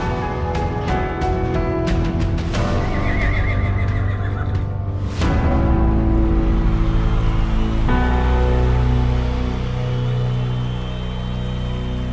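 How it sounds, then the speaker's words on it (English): Wild American Mustang horses neigh in several loud, whinnying calls that rise and fall over a steady, sustained musical background. "This is the story of America's wild horses."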